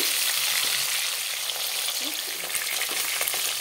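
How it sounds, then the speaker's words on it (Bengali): Fish pieces frying in a pan of hot oil for a spinach fish curry, giving a steady, dense, close sizzle that holds throughout with small crackling pops and no talk. "এইভাবে মাছগুলো ভেজে নিচ্ছি"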